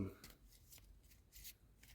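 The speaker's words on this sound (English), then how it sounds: "let me just give it one more little shuffle here" Faint, soft riffling of playing cards being shuffled up close, a few quick bursts of flicking paper in a quiet room.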